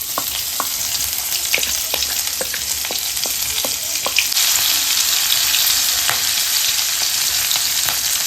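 Green chillies frying in a pan on a home stove, a steady hiss of sizzling oil dotted with sharp ticks and pops, growing louder and denser about halfway through, with no voices.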